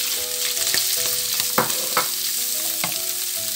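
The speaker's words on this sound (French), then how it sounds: "je vais remettre mes oignons, champignons dans la poêle" Onions and mushrooms frying in a pan, a loud steady sizzle broken by a few scraping stirs and clinks of a utensil, with no talking.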